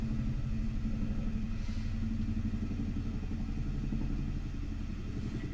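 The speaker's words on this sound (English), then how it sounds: "So we don't usually have this much air traffic" Steady deep engine rumble of aircraft passing overhead, a loud continuous low drone holding through the whole stretch with no voices.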